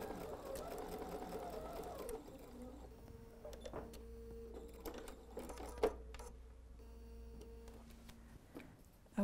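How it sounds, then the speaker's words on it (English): A sewing machine runs a straight stitch through a quilted tote, a steady close mechanical whir for the first couple of seconds, then lighter intermittent stitching bursts and clicks in a quiet room. "Now we'll just do a straight stitch."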